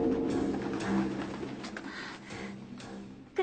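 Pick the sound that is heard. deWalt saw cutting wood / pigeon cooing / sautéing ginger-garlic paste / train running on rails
pigeon cooing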